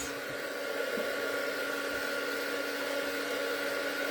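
A hair dryer or heat tool runs steadily at close range, drying modeling paste in a craft session, a constant whooshing blow with no pauses and no talk.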